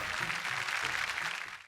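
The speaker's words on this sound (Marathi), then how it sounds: "एकदा जोरदार टाळ्या होऊन जाऊ दे." A studio audience at a Marathi women's TV show claps in a brief, steady burst of applause that stops abruptly near the end.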